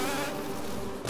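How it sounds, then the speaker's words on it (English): Steady, droning buzz of a giant bee in the Hollow Knight video game, heard close and loud without a break, with a brief swell just before the end. "That's a really big bee."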